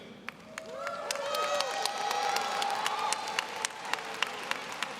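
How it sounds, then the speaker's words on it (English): Graduation ceremony crowd cheering as master's candidates rise at a Georgia Tech commencement, with rising shouts, whoops and scattered sharp claps filling a large hall, swelling then tapering off. "please rise and cheer."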